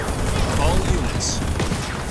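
Dense, continuous gunfire from ground troops in the video game Halo Wars 2, loud and close, with rapid overlapping shots and a game voice speaking over the battle noise.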